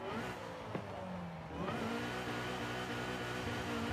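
Supercharged 1993 Nissan 240SX in Forza Horizon 5 revs steadily, with a brief dip and gear change midway before the engine climbs again, loud and continuous with supercharger whine and no talk.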